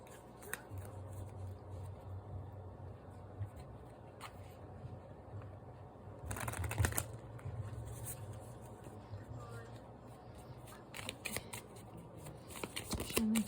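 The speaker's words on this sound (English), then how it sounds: "I'm going to pull some Shaman's Path cards here." Shaman's Path oracle cards being shuffled by hand in a quiet room, a steady riffling and sliding texture broken by a few sharper bursts of card slaps partway through and near the end.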